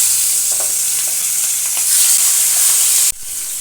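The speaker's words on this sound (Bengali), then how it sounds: "তেল গরম হয়ে গেছে, এবার মাছ দিয়ে দেবো। মাছটা হালকা ভেজে নেব।" Hilsa fish frying in hot mustard oil, a loud, dense, steady sizzle that carries on without a break and dips briefly near the end, with no voices.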